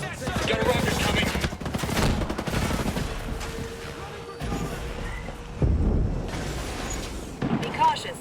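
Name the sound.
gunfire in video game Ghost Recon Breakpoint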